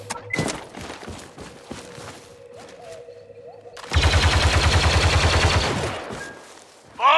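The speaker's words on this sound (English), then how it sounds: "Time to get a machine gun." Machine gun fire in Star Wars Battlefront II during Ewok Hunt: a dense rapid burst of shots lasting about two seconds after quieter game sounds, loud and close, ending in a short final blast.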